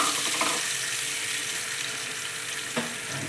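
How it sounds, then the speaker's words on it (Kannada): Tamarind juice hits hot oil in a pan, cooking together with turmeric, and it sizzles as a steady loud hiss throughout, with a couple of brief stirring knocks. "ಒಂದು ಬಟ್ಲಷ್ಟು ಹುಣಸೆ ಹುಳಿ ಹುಣಸೆಹಣ್ಣಿನ ರಸ ಹಾಕ್ಕೊತಾ ಇದ್ದೀನಿ"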